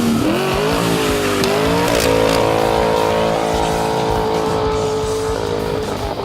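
A 1968 Camaro SS with a Flowmaster 50 Series custom dual exhaust revs loud and close, its deep exhaust note rising and holding steady with a throaty rumble and no talking.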